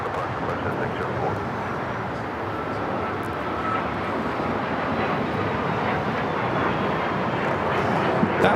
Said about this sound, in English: That was an Embraer Praetor 600 taking off to Cabo, FlexJet 604